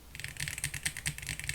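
Fast typing on a GMK67 keyboard fitted with Akko V3 Pro Blue tactile switches and Cherry-profile keycaps, giving a quick run of soft, close, rapid clacks with no talking.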